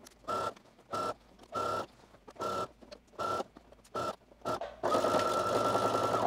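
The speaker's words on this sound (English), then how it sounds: "let's go ahead and sew the collar band onto the dress now." A sewing machine stitches a collar band onto a Simplicity 9888 button-placket dress in bursts of close, loud motor whir, about seven short runs with pauses between, then one long continuous run at the end.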